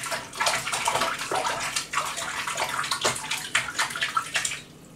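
Tap water pours into a kitchen sink, a continuous close splashing and gurgling stream that fades out at the end.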